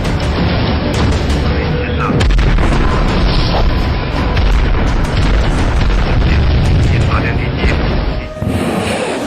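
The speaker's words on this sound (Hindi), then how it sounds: "अमेरिका की रॉयल नेवी वॉरशिप से एक के बाद एक 2 मिसाइलें निकली" Two missiles fire in quick succession from a warship, a loud sustained roaring blast that fills the whole clip with heavy low rumble and a brief dip near the end.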